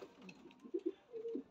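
A prized breeding pigeon coos softly in a loft, a few short low throaty coos near the end, faint and close with no talk.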